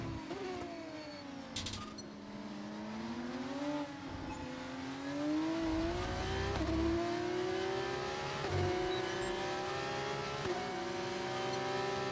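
Formula 1 race car engine in F1 25 revving in a steady loud whine, pitch climbing through gears with several quick upshift dips and a brief low rumble midway, no talking.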